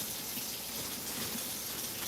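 Filtered water pours steadily from a refrigerator dispenser, a continuous close hissing splash with no voices over it.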